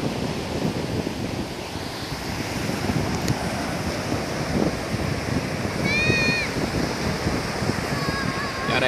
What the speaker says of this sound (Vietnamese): Đây sóng biển rất là đẹp quý vị.